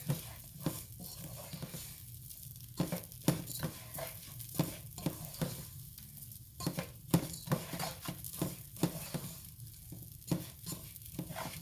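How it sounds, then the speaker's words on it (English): Rice for pilaf toasted in a pan before broth goes in, stirred continuously with rhythmic scraping strokes over a low, steady sizzle, close and fairly quiet, no talking. "the rice should be in here about 5 minutes before you add your broth. Let me turn it up just a little more. And just keep stirring it."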